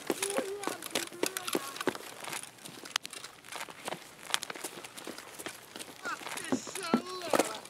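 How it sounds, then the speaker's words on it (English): Footsteps in a scav and squad firefight in Escape from Tarkov, a rapid run of crunchy, uneven steps from several players, close and fairly loud, spread over rustling movement and a few tonal game sounds. "I hear multiple footsteps"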